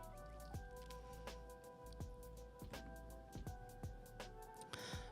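Rain falls steadily, with irregular drops and splashes ticking against a surface over a constant background hum, close and fairly quiet.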